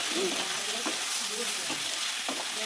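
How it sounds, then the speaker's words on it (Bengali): Fried taro sizzles loudly in a pan with ginger, garlic, onion and green chilli paste plus salt, turmeric and chilli powder, while a spoon stirs and scrapes through it in a few distinct strokes. "এই আদা, রসুন, পেঁয়াজ, কাঁচা লঙ্কার যে পেস্টটা ছিল ওটাকে দিয়ে লবণ, হলুদ, লঙ্কার গুঁড়ো দিয়ে এবার এটাকে কষাবো ভালো করে।"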